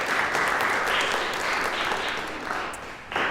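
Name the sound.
audience applause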